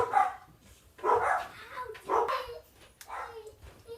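Pet dogs bark indoors in four separate bursts about a second apart, at moderate distance with quiet gaps between.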